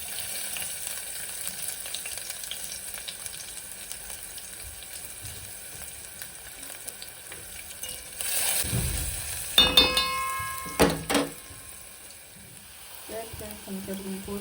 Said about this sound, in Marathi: वाव, बरो मस्तपैकी असं कांदो भाजला